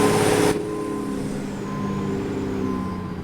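Truck cab sounds from American Truck Simulator with the driver's window open: a loud burst of broadband noise for the first half second, then a steady engine drone with faint tonal whines, no talking.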